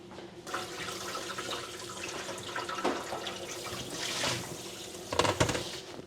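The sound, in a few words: rinsing a bell pepper under the kitchen tap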